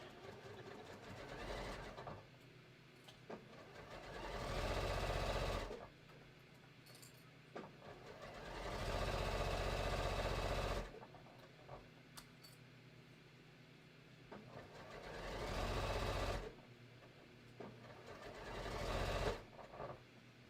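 A sewing machine sews a buttonhole on the waistband of a pair of shorts, its faint rhythmic whirring rising in repeated short runs with soft clicks and pauses between.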